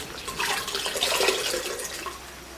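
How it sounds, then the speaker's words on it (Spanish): Cloth compress dipped into ice water and wrung out, a close, continuous splashing and trickling of water that swells in the middle and eases off, with no voices. "cada minuto cambio la compresa en agua y hielo"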